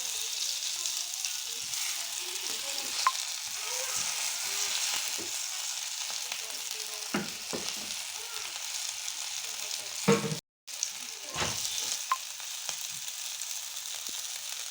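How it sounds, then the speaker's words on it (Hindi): Vegetable seekh kababs fry in a light film of ghee, giving a steady, close, soft sizzle with occasional scrapes and taps as they are turned, broken by a brief gap near the end. "इसको भी हम ऐसे पलट लेंगे क्योंकि घी हमने बिल्कुल हल्का डाला हुआ है।"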